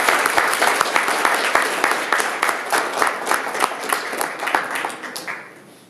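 Dense audience applause welcoming a keynote speaker at a diversity summit, many hands clapping steadily at close range before thinning and fading out near the end.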